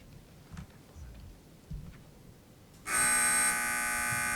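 A loud, sustained electronic buzzer from a quiz match game sounds for about a second and a half, abrupt and steady, after a stretch of quiet room noise with no talking.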